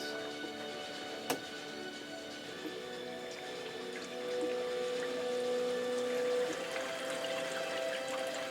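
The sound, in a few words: watercooling loop pump circulating water with bubbles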